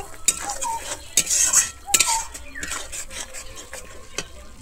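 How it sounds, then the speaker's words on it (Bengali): Kasuri methi being stirred into a spice paste frying in oil for a raw jackfruit kofta curry: a soft sizzle under repeated scraping and clinking of a spoon against the pan, close up and without talk. "আমি এরপর এখানে দিয়ে দিচ্ছি একটু কস্তুরি মেথি, দিয়ে আমি আবারও খুব ভালোভাবে মিশিয়ে নেব"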